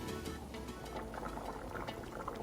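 Sinigang pork soup with tamarind simmering in a pot, a soft continuous bubbling and gurgling of liquid heard close and fairly quiet, with no talking.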